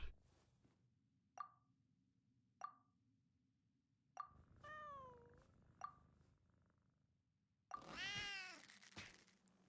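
A cat in Genshin Impact meows several times in short chirpy bursts, with soft plopping clicks between them and a longer drawn-out meow near the end, clean and close.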